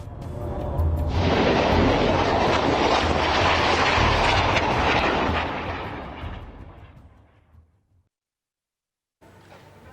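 An Israeli military vehicle explodes after a missile hit, a loud sustained roaring blast that rumbles for several seconds, fades out into silence, then a faint noise returns.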